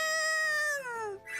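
A character's voice imitates a cat in the Atelier Resleriana video game, giving one drawn-out, falling meow-like cry lasting about a second, clear and close.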